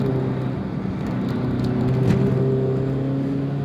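A Toyota AE86 with its 4A-GE 16-valve engine, about 90 horsepower, droning steadily from inside the car while driving on a highway, with a low, even engine hum and no speech.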